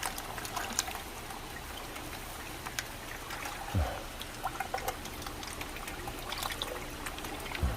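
Small shad and koi splash and churn the water steadily as they are fed, in a continuous watery trickle and slosh with a few louder splashes, close by and without talk.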